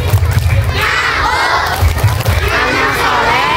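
Children at a Maulid Nabi Muhammad SAW celebration chant 'tepuk anak soleh' together with rhythmic clapping, a loud, close crowd of young voices with thumping claps in bursts.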